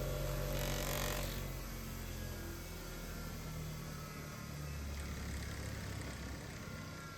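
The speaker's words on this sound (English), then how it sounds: "a bit of a polish up on the buffing wheel" A sat nav mount is polished on a buffing wheel, giving a steady, dense motor whir with a slight hum that holds evenly throughout, close and unbroken.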